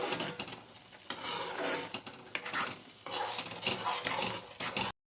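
Sauce seasoned with vinegar and salt being stirred in a pan, with a steady scraping and rubbing of utensil against the pan in repeated strokes, close and fairly quiet, with no talking.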